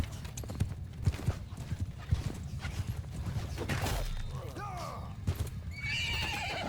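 Horses whinny loudly over rapid clip-clopping hooves in Mount & Blade II: Bannerlord, as horse archers flank, with a rumbling battle din of clattering and shouting beneath.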